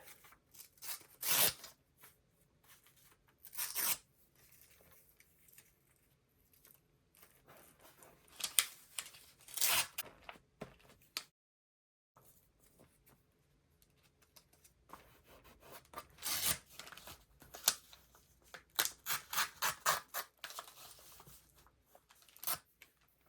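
Scissors cutting paper scraps for an art journal, heard as intermittent bursts of crisp snipping and rustling separated by quiet pauses.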